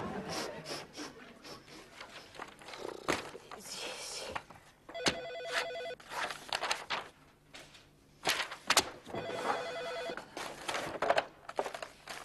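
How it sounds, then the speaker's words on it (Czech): A telephone rings repeatedly in a domestic TV comedy scene, the electronic trill in short bursts mixed with rustling and clattering noises around it. "Samo telefon!"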